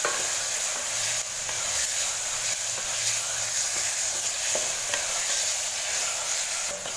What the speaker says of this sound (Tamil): ஹை ஃப்ளேம்லேயே வச்சு பார்த்திங்கன்னா தக்காளி நல்லா வதக்கிட்டேன்